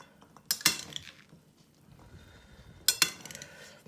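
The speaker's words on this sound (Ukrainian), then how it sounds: "Ми його перекинули в більшу салатницю, мішаємо" Metal spoon stirring vinaigrette beet salad with brown beans in a large salad bowl, two sharp bursts of clinking and scraping against the bowl with quieter mixing between.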